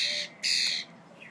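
A pet bird gives two loud, harsh squawking calls in close succession, then a faint short call, heard up close indoors.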